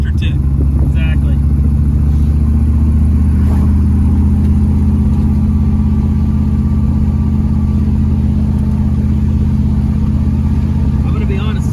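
A cold car engine runs steadily before warming up, with no lifter tick, a loud continuous low rumble throughout while people talk over it.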